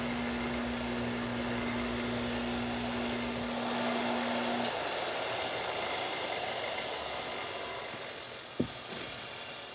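A bench grinder hums steadily during the repair of a vintage Craftsman Model 315.7790 drill. A faint pitched whine runs for several seconds, and a single sharp tick comes near the end.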